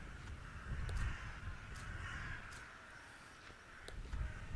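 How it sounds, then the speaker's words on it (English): Crows caw in the ambience of the video game The Last Door, a few scattered calls over a steady windy hiss and low rumble, with no talking. "Crows are on this side."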